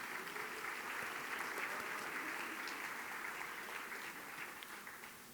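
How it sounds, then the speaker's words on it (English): Guests at a city boards and commissions appreciation luncheon give city staff a round of applause, a dense, even clapping from a crowd that tapers off slightly at the end. "let's give a round of applause for our city staff"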